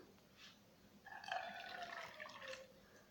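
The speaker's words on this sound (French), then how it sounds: "on va mettre un peu d'eau" Water is poured onto dehydrated homemade prepared food in a pan, a soft, quiet trickle and splash lasting about two seconds before tapering off.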